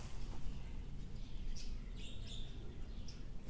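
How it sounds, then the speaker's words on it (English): Small birds chirp faintly in the distance with a few brief high tweets over a low, steady outdoor rumble, in a quiet countryside setting. "Can you hear the birds?"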